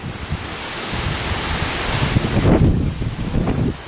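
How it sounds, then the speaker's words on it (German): Storm gusts of up to 110 km/h roar across the microphone in Kerken, a loud rushing buffet that swells and peaks near the end before easing off, with no voices. "Das waren jetzt gerade Böen von bis zu 110 Stundenkilometer,"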